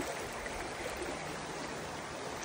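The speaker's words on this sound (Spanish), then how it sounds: "Miren el río hermoso." A river stream flows steadily, a close, even rushing hiss of moving water with no pauses and no voices.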